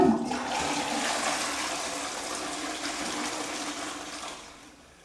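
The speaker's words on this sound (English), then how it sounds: "does the water turn the other way around when draining?" A toilet flushes with a loud rushing gush of water that drains steadily and fades toward the end, alone without talk.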